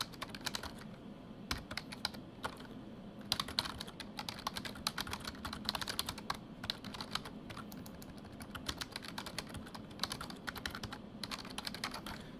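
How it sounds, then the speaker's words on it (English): Fingers type steadily on a computer keyboard, a quiet continuous patter of key clicks with short pauses and no voices. "I'll just type the rest of my instructions."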